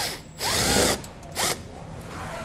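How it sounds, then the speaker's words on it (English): A power tool spins a T25 Torx socket to back out a bolt under the front fascia of a 2017 Smart car, in two whirring bursts, a longer one then a short one, close by with no talk. "We're going to remove that using a T25 Torx socket."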